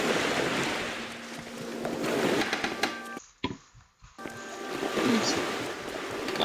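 Ocean surf in The Elder Scrolls: Morrowind washes in loud, rushing swells mixed with wind, breaking off into a brief near-silence before the rumble returns.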